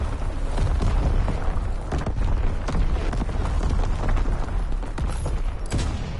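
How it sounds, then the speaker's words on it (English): Mortar and artillery shells going off in a video game, a dense, continuous barrage of booms and gunfire-like cracks with sharp transient hits scattered throughout, loud and unrelenting with no talking. "Enemy mortar fire incoming."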